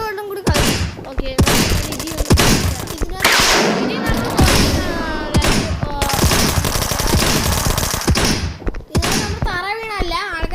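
Gunfire rattles in the video game Dude Theft Wars as repeated sharp bursts and thuds across the stretch, mixed with a player talking over the action.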